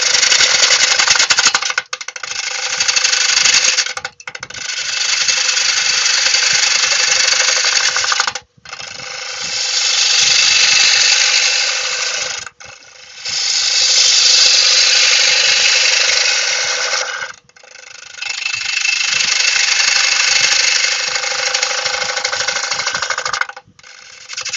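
A wood lathe turns a large piece of hard beech for a platter, the gouge cutting in loud rough bursts a few seconds long separated by brief pauses, no talk.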